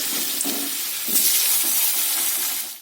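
Potatoes frying in hot oil for a fish curry, a steady close sizzle and hiss with a few soft stirring scrapes, no talking.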